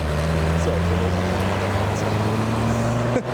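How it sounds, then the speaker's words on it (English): Diesel engine at a car meet, a steady low droning rumble that holds close and loud before a brief dip near the end. "Oh, diesel noises."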